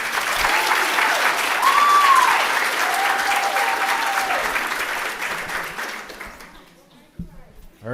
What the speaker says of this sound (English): How about another round of applause for Mark?